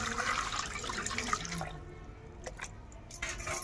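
Water poured into a bowl for washing peeled papaya, a close splashing stream in the first half, then quieter trickles and drips.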